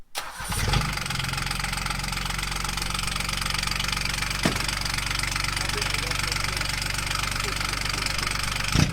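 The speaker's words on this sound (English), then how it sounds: "It has a 3-cylinder John Deere Yanmar diesel engine, of course." A 3-cylinder John Deere Yanmar diesel engine in a Yamaha G16 golf cart catches within the first second, then runs at a steady, loud, rumbling idle with a knocking diesel clatter that continues unbroken to the end.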